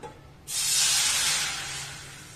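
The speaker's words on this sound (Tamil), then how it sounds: "இப்ப நம்ம அதே பாத்திரத்துல வந்து 1 கப் ரவைக்கு 3 கப் தண்ணி சேர்த்துடலாம்." A sudden loud hiss bursts in and holds steady, slowly easing off, as water hits a hot pan while making rava kesari. No voices.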